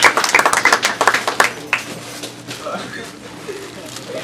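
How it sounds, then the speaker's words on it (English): At a high school alumni career panel, a single person's brisk handclaps come close and fairly loud for about a second and a half, then give way to voices talking in the room. "I can clap."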